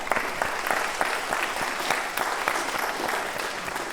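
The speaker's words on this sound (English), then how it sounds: "I'm giving you applause." Steady applause from an audience during a women's rights discussion after Dobbs, filling the whole stretch with dense, even clapping that holds level without a break.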